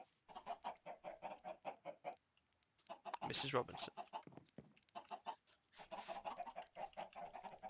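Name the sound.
chickens clucking in the video game Minecraft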